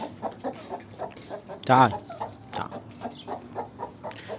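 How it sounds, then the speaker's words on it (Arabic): A young egg-laying hen, about nine months old, clucks in a steady run of soft repeated calls close by, with one louder squawk in the middle and a person speaking briefly. "جبنا دجاجة بيضة حلوة."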